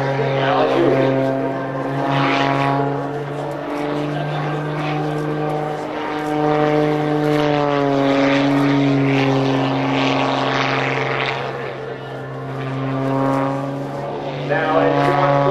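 Propeller-driven aerobatic airplane at the 2008 EAA Oshkosh AirVenture airshow, its engine droning steadily and rising and falling in pitch through a tight inside loop, with a commentator talking over it.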